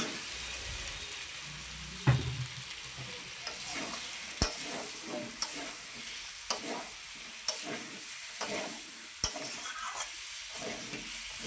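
Potatoes for aloo dum cooking in a pan, a steady close sizzle and hiss with scattered stirring scrapes and a few sharp utensil clicks against the pan.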